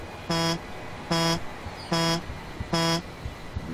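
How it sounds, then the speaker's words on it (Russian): A car alarm in Hitman: Absolution, at the Hope food festival, blares in four evenly spaced, loud buzzing honks with short gaps between them, and a fifth starts at the end. "Это просто сигнализация."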